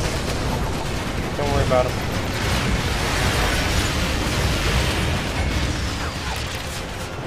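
Air strike explosions in the vehicle combat game Renegade Ops: a sustained roar of blasts and rumbling impacts at high level throughout, with a voice speaking briefly over the top.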